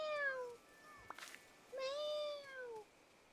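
Two high, harmonic meows from a cat in a video game, one near the start and a longer one around the middle, loud and clear over faint background, with a brief clicky noise between them.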